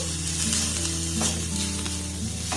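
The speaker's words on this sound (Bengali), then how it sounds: "আবারও সমস্ত উপকরণ একটু ভালোভাবে নাড়াচাড়া করে দেবো" Whole cumin, whole coriander and a little salt being stirred in a hot dry pan give a dense, steady sizzle and crackle, with a few scraping spatula strokes toward the end and no one speaking.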